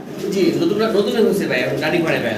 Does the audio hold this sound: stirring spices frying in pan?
no